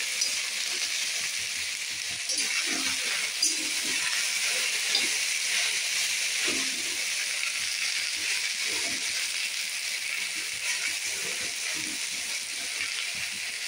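Sliced okra frying in a pan over high gas heat, a steady loud sizzle and hiss throughout with occasional soft clatters of stirring.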